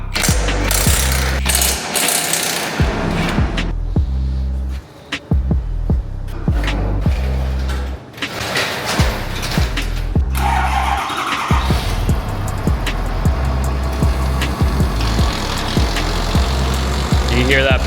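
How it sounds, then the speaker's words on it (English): A pump grinds inside a 6.7L Ford F-550 truck with only 29K miles, giving a loud, rough mechanical grinding and rattling, close up, with brief pauses and people talking over it. "You hear that pump grinding down in there."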